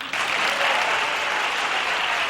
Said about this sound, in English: They're applauding Cresco